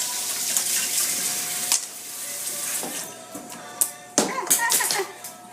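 Running tap water splashes over a bunch of fresh parsley as it gets rinsed in a home kitchen, a loud steady stream with brief bursts of stronger splashing near the end.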